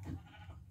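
Sheep bleating in the Minecraft video game, a single short low bleat heard up close with no talking, lasting under a second.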